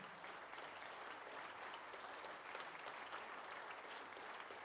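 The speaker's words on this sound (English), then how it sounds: "Please, a very loud round of applause for all three candidates." Quiet, distant-sounding applause from the audience at a federal candidates forum, continuous clapping for political candidates with a slight swell midway, no speech over it.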